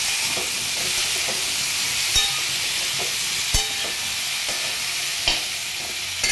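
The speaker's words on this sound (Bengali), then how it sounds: "হাই ফ্লেমে করে ভেজে নিলাম" Sprouted chickpeas frying on a high flame, giving a loud continuous hiss with occasional sharp clicks and taps of stirring.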